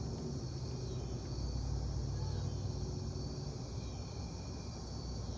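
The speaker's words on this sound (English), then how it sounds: "I love the sound of the crickets and the katydids and all that." Crickets and katydids chirp in a dense, steady chorus on a summer evening, a continuous high shimmer over low rumble with no talk.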